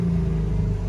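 A 2023 BMW M3 engine idling right after a push-button start, a steady loud low rumble with no voices over it.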